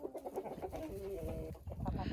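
Chickens and roosters cluck close by, a busy overlapping chatter of fowl with no talking.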